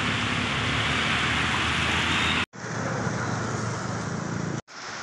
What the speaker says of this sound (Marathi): नाशिक शहरासह जिल्ह्यात आता मुसळधार पाऊस सुरू झाला आहे।